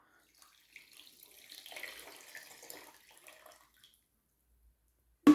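Water is poured into a pot of sugar for blueberry jam syrup, giving a soft splashing trickle that swells and fades over about three seconds, followed by a sharp knock at the end.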